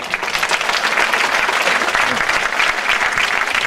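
An audience at a conference lecture on nutrition and cancer prevention bursts into applause for the speaker, a brief, even roar of many hands clapping close by.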